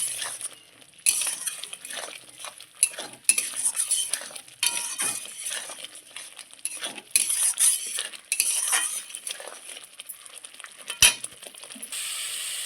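Spices with salt and turmeric stirred and fried in a pan, a close, busy run of metal spoon scrapes and clinks over a light sizzle, irregular and continuous with a few sharper knocks.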